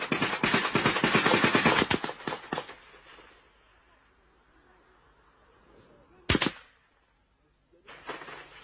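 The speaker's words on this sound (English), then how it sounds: "Some wait in the grass, while 20 yards ahead, comrades open fire as soldiers are spotted unexpectedly." Gunfire breaks out in an ambush on government soldiers on a track near Kampala, Uganda. A dense volley of shots crackles for about two seconds and tails off, then one loud crack comes later, followed by a shorter burst.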